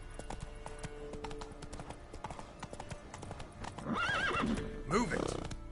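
A horse in The Witcher 3 clops along with rapid, steady hoofbeats, then lets out two loud, close whinnies toward the end.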